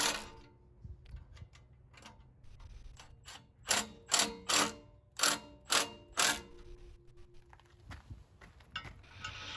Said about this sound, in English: tighten up the nuts while holding the bolts immobile with a wrench.